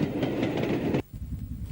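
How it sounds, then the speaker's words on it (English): A Southern Railway Schools Class steam locomotive approaches Orpington station in June 1940, a loud, steady rolling rumble that cuts off abruptly after about a second into quieter low noise. "some scenes shot at Orpington in June 1940, as a Schools Class 440 approaches the station"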